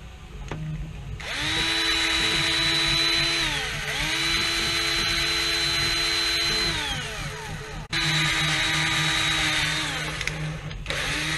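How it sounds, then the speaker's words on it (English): A power drill whines loudly nearby in several long bursts, drilling a 5/8-inch hole in a Nerf Rainbow pistol, pitch rising at the start of each run and dropping as it stops. "What I want to do is I want to drill the 5/8 hole"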